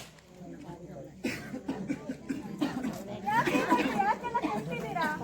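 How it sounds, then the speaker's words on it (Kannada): Villagers in a skit at a student service camp cough one after another in rough, scattered bursts, mixed with background chatter and a few chuckles. "ಇದೇ ತರ ಡಾಕ್ಟರ್ ಇಡೀ ಊರೇ ಕೆಮ್ಮಿದೆ."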